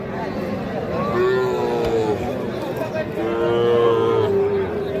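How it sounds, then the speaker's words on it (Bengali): A young Sahiwal heifer calf moos twice, two drawn-out lowing calls close by, with faint murmuring voices in the background. "একটা বকনা বাছুর কিন্তু শাহিওয়াল"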